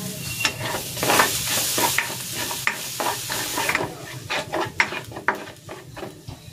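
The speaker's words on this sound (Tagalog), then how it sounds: "Magigisa na ako dito ng bawang" Garlic sautés in a pan for pancit, a loud close sizzle broken by frequent quick scrapes and clinks of a spatula stirring against the metal, busiest in the second half.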